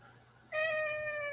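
A cat meows once, a clear, sustained tonal call that starts abruptly and holds steady, close and fairly loud against a faint low hum in an indoor room.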